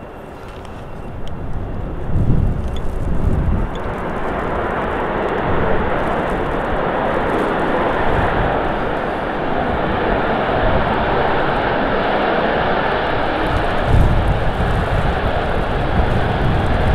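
An Emirates A380 landing at Manchester Airport gives a broad, steady roar that swells early and holds loud throughout, with no talking.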